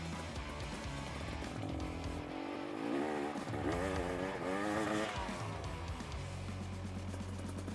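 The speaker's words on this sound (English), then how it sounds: "Clutch in, back brake. Just getting that back wheel sliding." A motocross dirt bike power-sliding with the clutch in and back brake locked, its engine buzzing and rising in pitch mid-clip, heard at moderate distance over a rough skidding rumble.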